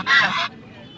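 Home-raised ducks at Putia village market in Narsingdi, Bangladesh, give one loud, harsh honking call lasting about half a second, then fall quiet under low market background noise.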